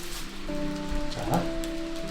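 Tea leaves roast in a hot, dry cauldron with no water, giving a dense, even crackling sizzle much like rain on a surface, continuous and close.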